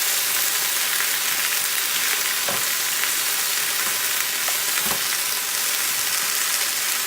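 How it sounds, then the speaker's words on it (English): A loud, dense sizzle of seafood coconut curry frying in oil fills the scene, broken by a few soft scrapes of stirring, close and continuous with no voices. "And I'm just going to stir this."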